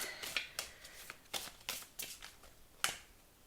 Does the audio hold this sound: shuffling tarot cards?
yes